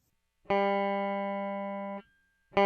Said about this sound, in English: here's the sound of the guitar dry, straight into the DAW, straight into the computer